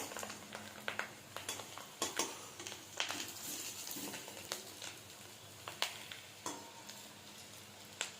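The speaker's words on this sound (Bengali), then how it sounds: "বড়া যখন ভাজা হয় বা পকোড়া তখন এরকম তেলটাতে ফেনা হয়" Fish roe fritters (pakoras) fry in a pan of foaming oil as they are turned, giving a steady crackling sizzle broken by frequent sharp spatters and utensil clicks, close and fairly quiet, with no talking.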